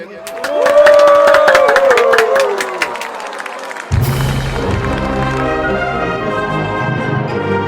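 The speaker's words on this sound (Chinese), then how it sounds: "请大家 用热烈的掌声来欢迎" A crowd claps and cheers loudly to welcome a Western-style band at a Taiwanese countryside event, the applause swelling then giving way to the band starting to play.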